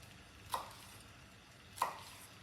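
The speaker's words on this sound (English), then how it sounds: "what I'm doing is what is called a chiffonade cut" A knife chops vegetables into thin ribbons for a chiffonade cut, with two sharp, crisp blade strikes on a cutting board about a second apart against a quiet background.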